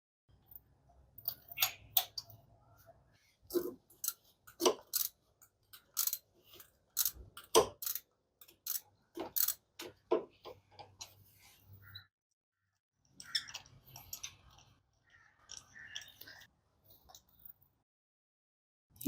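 Spark plug socket with rubber insert turning on a Honda Fit spark plug, a series of quiet close clicks and scraping taps in irregular bursts with pauses.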